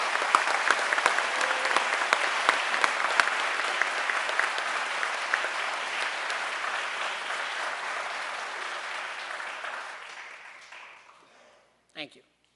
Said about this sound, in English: How about a round of applause for Class 245?